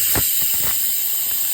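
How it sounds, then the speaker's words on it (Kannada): A pressure cooker on the stove while cooking dal for sambar releases a steady high steam hiss, with a few short low bursts near the start before settling into a continuous whistle-like rush. "ನಾನಿಲ್ಲಿ 2 ವಿಸಿಲ್ ಹೊಡ್ಕೊತಾ ಇದ್ದೀನಿ"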